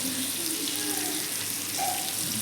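Fish sizzling as it fries in sunflower oil, a steady wash of bubbling hiss that runs continuously at moderate level, with no talk over it.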